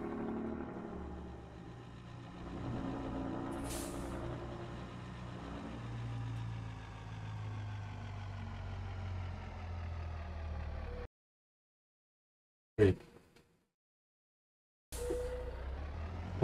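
A heavy, loaded six-wheel-drive truck's engine in a farming video game drones steadily and loudly for about eleven seconds, then cuts to silence broken by one sharp burst like an air-brake hiss, before the engine returns.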